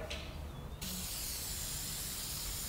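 A short spray of WD-40 onto a hedge trimmer blade hisses, pauses briefly, then a longer steady spray follows, close and fairly quiet, with no talking.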